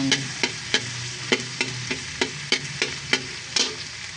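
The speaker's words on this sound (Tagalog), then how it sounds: "magigisa ako ng bawang" Garlic sautéed in a pan, a constant loud sizzle broken by about a dozen evenly spaced scraping strokes of the spatula, close up and without speech.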